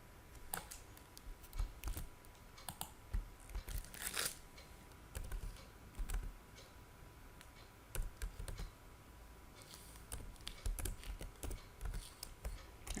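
Computer keyboard typing while correcting a Python dictionary exercise, a steady run of close, light key clicks in short bursts with brief pauses, no talk.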